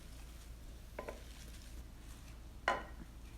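Salad is tossed with sesame seeds and salt in a bowl, giving two brief, soft clinks of a utensil against the bowl in an otherwise quiet kitchen.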